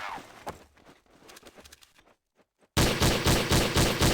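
The G3 auto sniper rifle firing in the video game Counter-Strike: Source, heard as a short run of sharp shots and clatter, then a brief drop to silence before a loud, dense burst of rapid fire at the end.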